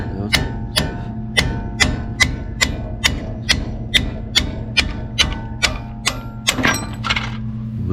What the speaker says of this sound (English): we're just going to take a punch and a hammer and knock that out